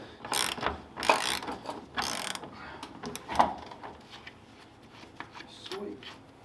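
Ratchet working on bolts of a Volvo P1800S rear axle during restoration, several bursts of quick metallic clicking close by, separated by short pauses and quieter shuffling.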